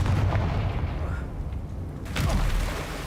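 A Confringo fire-blast spell explodes in Hogwarts Legacy with a loud, rumbling boom, a short pause, then a second heavy burst, all under steady game noise.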